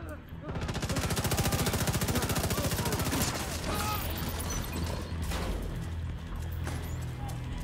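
Sustained turret gunfire in the video game The Division 2, a loud, fast, evenly pulsing stream of shots for about three seconds, then scattered heavier impacts and crashes over a busy battle bed.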